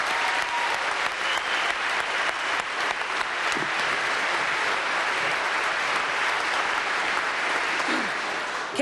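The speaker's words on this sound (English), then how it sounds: "Let's give them a round of applause, please." A large crowd claps loudly and continuously at a Cleveland Division of Police academy graduation ceremony for the 142nd class, dense steady applause filling the room without a break.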